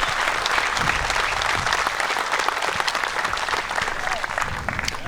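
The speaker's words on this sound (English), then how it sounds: "let's give them all a round of applause." Dense, loud applause from an archery crowd after a women's pro shootdown, a steady wash of many hands clapping close and continuous throughout.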